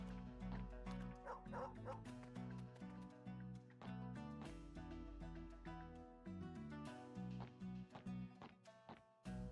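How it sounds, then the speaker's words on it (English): A dog in the video game Murders on the Yangtze River yips and barks in quick repeated bursts over continuous game music, the barks fairly close and mixed in at moderate loudness. "Dog!"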